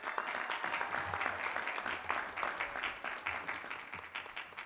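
Sustained audience applause at a graduate commencement ceremony as the crowd honors education degree recipients; a broad, even wash of many hands clapping, moderately distant in a large hall.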